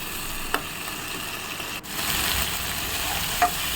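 Potatoes sautéing in spice masala in a pan, a continuous close sizzle with a couple of soft utensil taps and a brief stir partway through, no talking.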